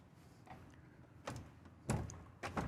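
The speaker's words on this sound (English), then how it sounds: "There's another pocket door here that will close this off." A pocket door inside a Prevost X3-45 motorcoach slides and thuds shut, a few soft knocks and bumps spaced out over a couple of seconds.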